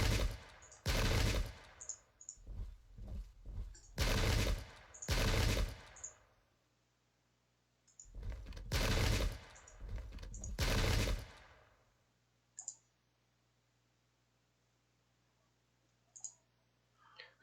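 Volleys of musket gunfire from the Pike and Shot strategy game, clustered crackling bursts in several loud clumps separated by quiet gaps, with a few faint isolated clicks near the end.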